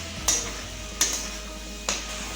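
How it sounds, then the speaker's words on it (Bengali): Boiled banana flower is stirred into fried spices in a pan, making a soft continuous sizzle broken by three sharp scraping strokes spaced about a second apart. "মোচার সাথে মশলাটা খুব ভালোভাবে মিশিয়ে নেব।"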